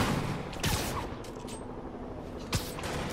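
Gunfire crackles at a police transport in the Marvel's Spider-Man video game, a dense burst of shots with a sharp crack near the start and another later, over a steady noisy game backdrop, no talking.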